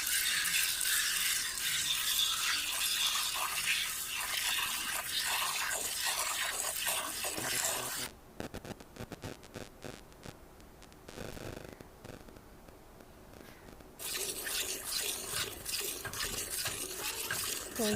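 Hand milking of a calm, gentle cow into a pail, the rhythmic squirts of milk coming as a steady hiss and patter, with a quieter pause midway before the streaming resumes.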